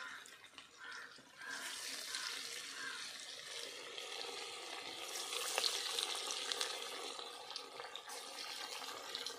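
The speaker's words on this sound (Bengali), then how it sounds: "কড়াইতে সাদা তেল দিয়েছি, সাদা তেল গরম হয়ে গেছে। এবার আমি পকোড়াগুলো ভেজে নেব।" Pakoras sizzle and crackle in hot white oil in a kadai, a steady frying hiss with occasional sharper pops and a brief stir, fairly quiet and close with no talking.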